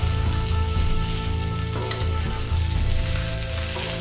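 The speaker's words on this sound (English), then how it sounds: "Flip over and sear the other side." A whole tilapia sears in hot oil in a pan, a loud close crackling sizzle with occasional pops and scrapes, continuous and without speech.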